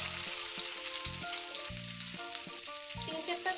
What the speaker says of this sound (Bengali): পেঁয়াজ এবং মরিচটা আমি খুব ভালোভাবে ভেজে নিব।